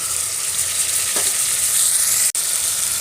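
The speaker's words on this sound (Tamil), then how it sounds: "வெங்காயம் நல்லா வதங்கனையும் 2 தக்காளி அரிஞ்சு வச்சுருக்கேன், போட்டுக்கலாம்" Chopped tomatoes sizzle with softened onions and a pinch of asafoetida in a pan, a steady broadband frying hiss running throughout with one brief stir scrape and a momentary sharp break near the end.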